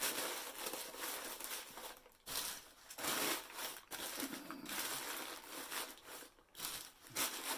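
Sheets of newspaper being crumpled by hand to pack the inside of a Vikings film prop helmet, a continuous loud crinkling and crunching with bursts of rustle and short pauses, close up.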